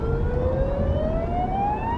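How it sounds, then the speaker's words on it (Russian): An ambulance siren wails on the road, a steady rising electronic tone that carries loud and continuous over the low rumble of traffic and engine noise. "Когда я на дороге слышу звук скорой, полиции, я сразу начинаю смотреть в зеркала и искать их"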